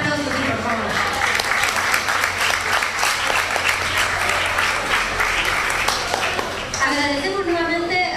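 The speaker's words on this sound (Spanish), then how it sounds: "Así que un aplauso, sí, por favor." A concert audience in a bar applauds, steady loud clapping from a crowd that runs for several seconds before a voice begins speaking near the end.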